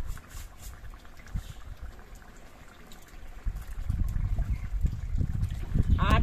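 Neem shukto, a Bengali mixed-vegetable stew with lentil dumplings, simmers and bubbles in a pot, a soft wet burble growing steadier and a little louder toward the end.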